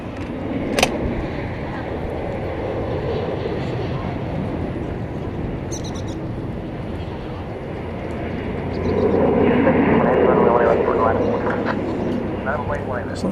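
A jet takes off from runway 18 left at DFW Airport at night, a distant broad roar that swells toward the end, with tower radio chatter over it.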